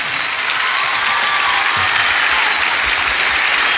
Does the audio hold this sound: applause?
yes